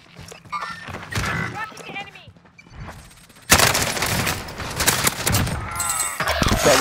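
Shotgun blasts from a video game battle, loud sharp bursts scattered through the clip, with a dense heavy stretch of gunfire in the second half, while players talk over a hot mic.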